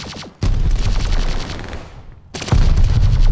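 Loud bursts of rapid gunfire in a multiplayer shooter battle over a hardpoint, one long volley broken by a short gap and then another dense burst, close and with no talk.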